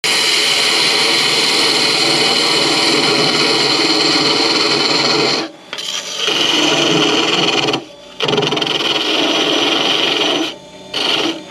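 A drill bores into a wooden snowman ornament in a woodworking session: a loud, steady, rasping whir that runs for several seconds, then stops and restarts in short bursts with brief pauses between them.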